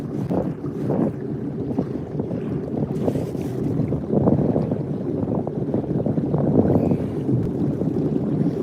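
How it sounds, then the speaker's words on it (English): Strong wind buffets the microphone in steady gusts during a Sea-Doo ride near Goodland, Florida, a rough, roaring rush over a low rumble, with no voices. "It's pretty windy right now."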